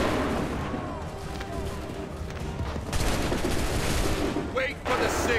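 Musket volleys crack out in a battle of the video game Assassin's Creed 3, dense overlapping gunfire that swells and rolls through the whole stretch over a noisy combat din, with a brief lull near the end before firing resumes.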